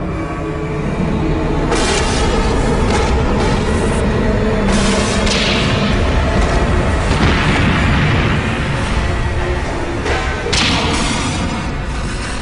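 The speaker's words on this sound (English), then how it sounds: "Radiation equal to 500 atomic bombs is about to explode." A massive nuclear plant explosion roars in a long, loud, continuous rumble, with repeated booming bursts and cracking blasts rolling over each other throughout.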